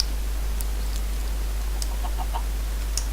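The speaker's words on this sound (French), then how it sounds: "Ils sont mignons, les petits poulets." Chickens in the Minecraft video game cluck in short, faint chirps scattered over a steady low hum, with no voices.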